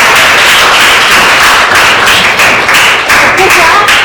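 A classroom group claps hands together in a loud, dense, steady burst that continues throughout.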